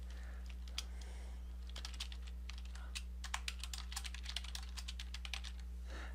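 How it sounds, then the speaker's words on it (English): Rapid, uneven keystrokes tapped on a computer keyboard in short bursts over a constant low electrical hum, close and fairly quiet with no voices. "I could type more text here"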